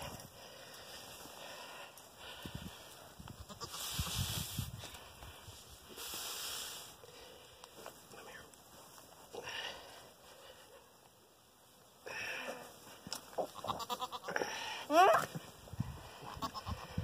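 A goat caught in a fence in a farm yard bleats in short, fairly loud calls scattered among rustling and handling noises, with a few other bursts later on.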